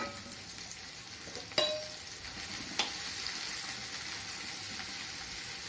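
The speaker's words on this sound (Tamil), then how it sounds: "எண்ணெய் காஞ்சிடுது வெங்காயம் போட்டுக்குவோம்" Onions dropped into hot oil for a turkey berry masala give a steady, close sizzle and hiss, with a couple of sharp utensil clicks early on and no talking.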